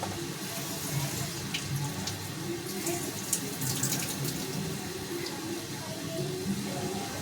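Soaked soya chunks squeezed by hand for a veg pulao, with water trickling and splashing out quietly and steadily, no talking.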